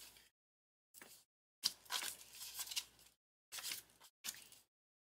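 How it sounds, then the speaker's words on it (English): Paper savings challenge cards are shuffled by hand in several short bursts of close rustling and crinkling, separated by moments of silence. "I am trying so hard to shuffle them up."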